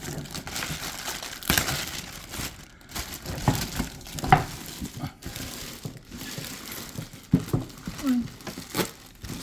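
A figure of Reisalin Stout in a bikini is pulled from its plastic bag, with loud crinkling and rustling of thin plastic in uneven bursts close to the microphone, and a voice speaking at times.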